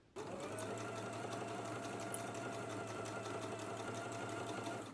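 A sewing machine runs steadily, basting two fabric layers together, with a continuous even whir and needle rattle for the whole stretch at low, close volume and no talking.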